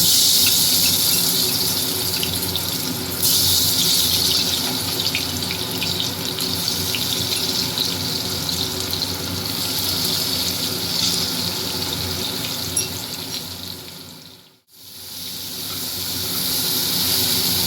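Eggplant slices frying in hot oil in a pan for Bengali-style neem begun, with a loud, steady close-up sizzle and hiss that keeps going, briefly cuts out near the end, then returns.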